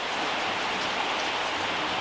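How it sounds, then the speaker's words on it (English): Steady rain falls outside a cabin, a dense, even hiss of drops pattering nearby without pause and with no voices over it. "It's raining again."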